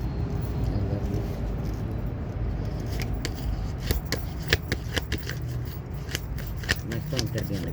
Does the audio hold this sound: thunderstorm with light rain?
no